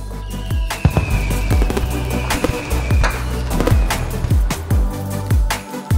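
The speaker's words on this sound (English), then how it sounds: "Look! The fireworks are starting!" Fireworks at a midsummer festival in the video game Eternal Return, with a steady run of sharp bangs and crackling bursts going off one after another, fairly loud, layered over a constant background of music.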